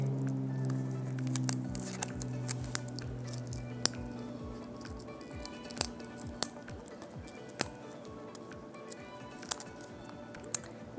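Blade cutting stencil lettering out of a board, a string of soft crisp snips and clicks at uneven intervals over a steady low background hum, fairly close and quiet, with no talking.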